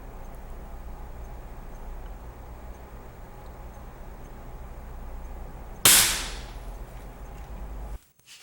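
A 1950s German Walther LG53 air rifle fires once at an outdoor range, a single sharp crack that rises out of a steady background hum and fades quickly.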